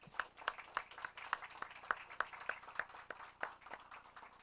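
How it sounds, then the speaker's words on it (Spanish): Congregation clapping in unison during a Spanish-language church service, steady rhythmic claps at roughly three per second, moderately distant and fairly faint. "Vamos a aplaudir al Señor."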